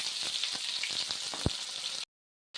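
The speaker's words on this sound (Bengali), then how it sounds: "এবার আমি কয়েক পিস আলু এটাতে ভেজে নিচ্ছি" Potato pieces frying in hot oil while cooking duck Chettinad, a steady close sizzle with a few soft stirring knocks, ending in sudden silence.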